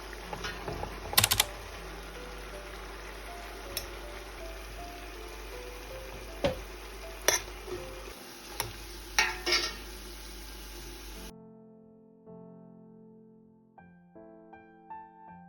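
Pieces of meat fry in oil in a pan, a steady low sizzle broken by sharp clicks and utensil knocks as the pieces are lifted out. The frying fades near the end and faint music follows, with no speech.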